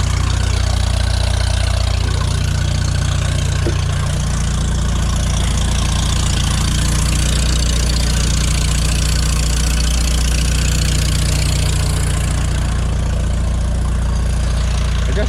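A Farmall M tractor engine idles steadily on its first run of the year, a loud, continuous low rumble with an even throb and no pauses or voices throughout.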